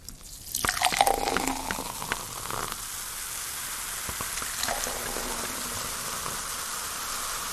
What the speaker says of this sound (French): je rentre dans l'installation et suis immédiatement immergée dans l'effervescence des bulles de champagne Ruinart